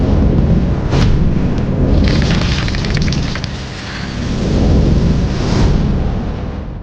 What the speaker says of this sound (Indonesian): Petir surgawi.